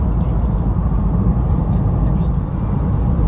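A 2021 Vauxhall Astra Estate with a 1.2 engine labours uphill, its steady low engine drone and road rumble filling the cabin at a constant level.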